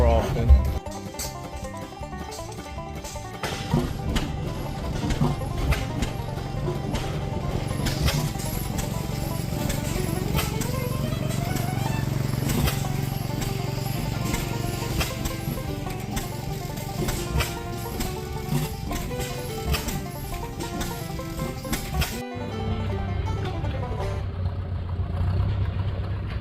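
An antique hit-and-miss gas engine runs at a tractor and engine show, a steady low chugging drone that holds throughout and shifts abruptly near the end, with people talking over it.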